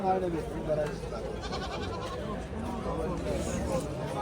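Goats and sheep bleat repeatedly at a busy livestock market in Angren, with overlapping calls close by over a constant babble of crowd chatter.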